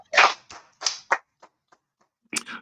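A few separate hand claps ring out close by, irregular and sharp, with long silent gaps between them and a short cluster near the end.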